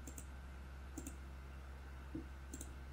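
Faint computer mouse clicks sound in a quiet room, about four single taps scattered unevenly over a low steady hum.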